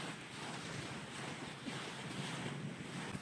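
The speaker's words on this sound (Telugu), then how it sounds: "దగ్గరికి వెళ్తున్న కొద్దీ ఈ అలల సౌండ్ చాలా రిలాక్సింగ్గా అనిపిస్తుంది" Ocean surf at Werribee South beach in Australia washes in as a steady, close roar of breaking waves, with gusts of wind buffeting the microphone throughout and no voices.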